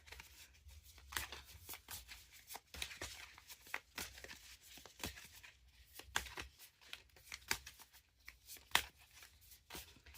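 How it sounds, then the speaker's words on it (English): Tarot cards are shuffled repeatedly in quick, crisp riffles and flicks, close up, with no talking. "Just doing a really good shuffle for you guys."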